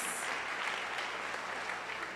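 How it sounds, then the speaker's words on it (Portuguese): A congregation at a Portuguese-language evangelical church service claps loudly and steadily, a continuous dense burst of applause filling the whole moment without voices. "Você pode aplaudir ao Senhor bem forte"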